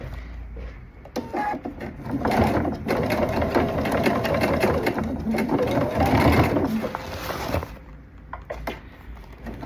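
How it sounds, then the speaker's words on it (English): A sewing machine stitching bias tape onto a leather skirt, running steadily at close range for several seconds with brief pauses at the start and end, no talking. "I'm gonna sew into that little fold"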